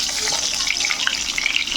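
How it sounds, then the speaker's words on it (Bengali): Cauliflower frying in a pan gives a steady, close hiss and sizzle with small crackling pops throughout, with no talk over it. "এই ফুলকপিটা এখন আমি ভাজছি"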